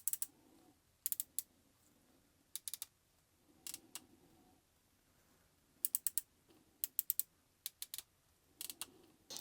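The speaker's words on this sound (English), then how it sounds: "nothing beats that JRL sound on the click lever" Click lever on JRL hair clippers, flicked repeatedly in a close, quiet room: sharp, crisp mechanical clicks arriving in pairs and small clusters with short pauses between, alone with no talk.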